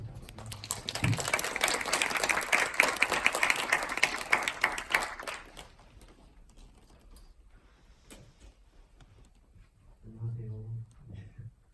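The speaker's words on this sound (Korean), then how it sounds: "다시 한번 박수 부탁드립니다." Audience applause at a 2020 Seoul independent film festival short-film showcase Q&A, a dense, loud burst that fades after about six seconds into a quiet room before a person begins talking.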